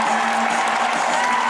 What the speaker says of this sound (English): As the Knoch crowd erupts here